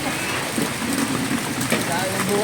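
Steady rain falls during calamansi picking outdoors, a dense continuous patter throughout with a few brief louder spots and faint voices mixed in.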